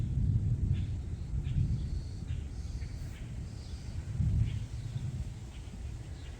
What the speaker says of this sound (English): That's the thunder.